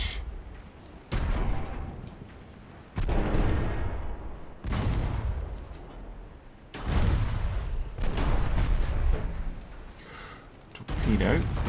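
Heavy booms and rumbling blasts from a naval battleship game as a torpedo strikes a Japanese dreadnought, several loud bursts each decaying into roaring noise, with a voice talking between them.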